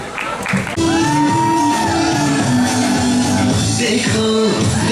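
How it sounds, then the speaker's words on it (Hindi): A college fresher's welcome crowd shouts, whoops and cheers loudly and continuously as a dancer takes the stage at a cultural event, with music beginning underneath the roar. "तो जोरदार तालियों से स्वागत कीजिए ध्रुवी"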